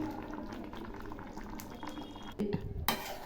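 Shukto curry with milk and green banana bubbling thickly in a pan as it is stirred, a steady wet simmer with a couple of louder spoon scrapes toward the end.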